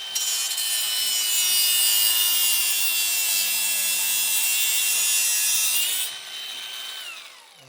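Power tool cutting through steel exhaust pipe while fabricating a custom lorry exhaust, a loud steady high-pitched grinding whine that holds for about six seconds, then drops in pitch and fades as the cut finishes.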